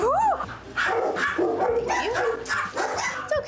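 Several excited dogs bark and yip in quick, overlapping bursts, loud and close, with some whimpering between barks as the pack rushes along.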